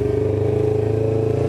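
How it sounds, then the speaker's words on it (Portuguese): A superbike engine idles steadily while warming up, a low, even, pulsing rumble with a faint mechanical clatter, close and continuous with no talking. "Deixa a moto esquentar um pouco."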